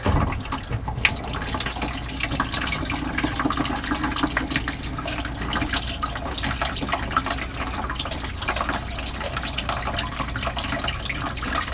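Water dripping and trickling from a household water filter housing just after its pressure is released, a steady close splashing flow with no voices.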